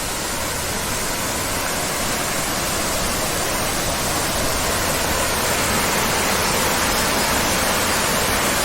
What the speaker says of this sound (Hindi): ये जो आवाज़ आ रही है कलकल बहते जल की, ये देखिए, यहाँ है एक झरना।